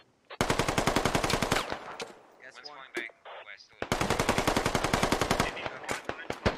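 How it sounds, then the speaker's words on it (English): Sustained automatic fire in the game Squad, two long close bursts of rapid shots separated by a pause with a brief voice and scattered shots. "They're trying to shoot through any opening they can."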